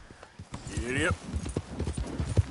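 Hooves clop in a quick rhythm from a horse in the Red Dead Redemption video game, heard briefly beneath a voice.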